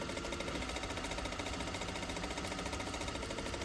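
Sewing machine stitching a plain seam, a steady fast mechanical whir with an even rhythmic needle chatter running throughout, close and unbroken.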